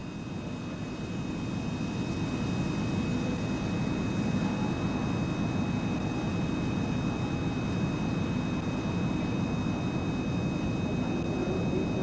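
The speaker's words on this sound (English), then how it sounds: "Let's have a quick listen to the APU." An Airbus A350 auxiliary power unit runs in the X-Plane flight simulator, giving a steady, unbroken drone with a faint high whine held throughout. No one speaks.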